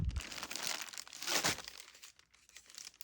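Thin plastic package bags crinkle and rustle as they are pulled open by hand, a close, continuous crackling with a louder burst in the middle before it settles into softer rustles.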